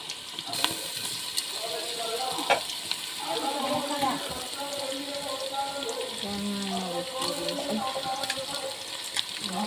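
Onion, ginger and garlic fry in a pan for an Eid meal, giving a steady close sizzle with stirring scrapes and occasional pops, while voices chatter in the background.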